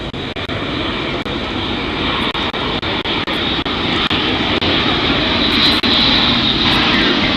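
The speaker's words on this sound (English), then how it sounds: "eight-bladed composite curved propellers" Large propeller aircraft with eight-bladed composite curved propellers at the Farnborough 2014 airshow, a loud, continuous engine roar with a throbbing texture that holds steady throughout.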